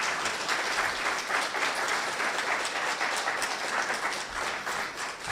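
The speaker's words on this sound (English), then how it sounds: "Let's give Dr." Sustained audience applause at a talk on local history, a continuous even wash of many hands clapping at steady volume.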